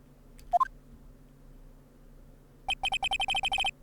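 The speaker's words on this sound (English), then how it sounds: "I had a phone ring just now." A cell phone ringtone from the video game Phoenix Wright: Ace Attorney: a short chirp, then a rapid run of about ten bright electronic beeps over quiet background music, with no voices.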